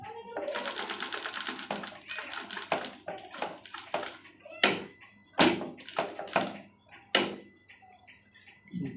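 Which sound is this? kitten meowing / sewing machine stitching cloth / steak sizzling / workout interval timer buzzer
sewing machine stitching cloth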